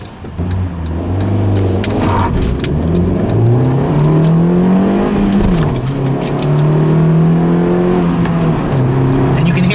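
A 2012 Honda Fit Sport engine revs up loud and close from inside the car, climbing in pitch, dipping at a gear shift, then pulling again toward the VTEC range.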